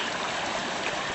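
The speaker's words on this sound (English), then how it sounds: "creek or the river babbles right along" A small creek babbles along beneath a little footbridge, a steady, close rushing and trickling of water with no pauses over the brief moment.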